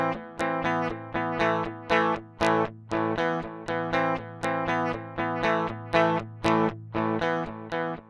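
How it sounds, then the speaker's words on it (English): Electric guitar through a Line 6 Helix vintage digital delay plays repeated plucked notes in an even rhythm, each attack harsh and buzzy with digital clipping distortion, loud and close. "Do you hear the clipping? It's not nice. That's digital distortion."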